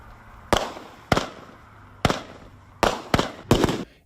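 Fourth of July fireworks going off in a residential area, five or six sharp cracking bangs at irregular intervals, each with a short rumbling tail, moderately close and with no voices.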